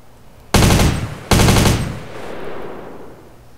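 Two loud, close bursts of rapid MP5 submachine-gun fire in GTA San Andreas, the second following shortly after the first, then a fading echo.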